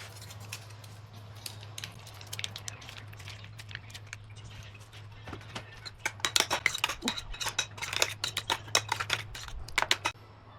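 Chicken macaroni salad tossed in a bowl, with soft clicking and scraping of a utensil against the bowl that grows busier and louder in the second half, over a low steady hum.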